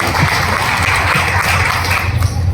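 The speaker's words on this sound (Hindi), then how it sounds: "तो एक बार सुजीत जैन साहब के लिए भी जोरदार तालियां होंगी" Steady applause from an audience at a company gathering, honoring Sujit Jain. It fills the room loudly and evenly throughout, with no gaps and no talk over it.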